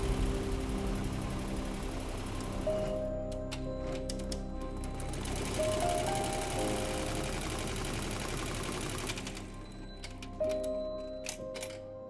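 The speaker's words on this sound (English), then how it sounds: "the process of embroidering the crest onto the front of the cap and the country on the peak" Embroidery machine stitching a crest onto the front of a football cap, a steady rapid mechanical chatter with brief pauses where a high whine drops out, close and continuous.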